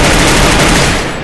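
Rapid, loud, dense bursts of gunfire in a shooter video game, continuous close shots filling the moment with no pauses.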